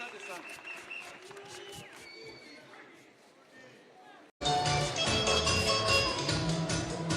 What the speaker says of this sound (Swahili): Makofi kwa Isaac, makofi, makofi, makofi.